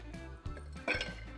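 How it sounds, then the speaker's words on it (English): Ice clinks and cracks against a metal cocktail tin as a drink is stirred, with two sharper bright knocks over a low steady hum, close and moderately loud. "Let's crack some ice and stir this bad boy up."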